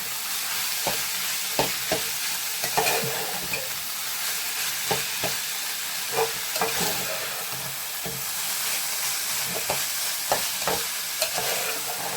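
Fish thoran being stirred in a hot pan, a steady frying sizzle with repeated scraping taps of the spoon against the pan at irregular intervals, close and alone without talk.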